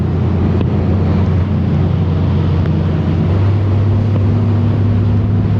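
A steady, loud motorboat engine drone with rushing wind and water noise on Lake Guntersville, its pitch shifting partway through as the bass boat speeds up onto plane.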